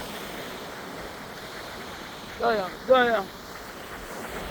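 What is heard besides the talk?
ocean waves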